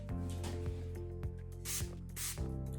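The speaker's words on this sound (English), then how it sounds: "So again, as we say, 3 centimeters away and spray" A scalp care mist sprayed from a spray bottle about three centimetres from the head gives a few short, airy hissing bursts, close and clear, over a steady musical background.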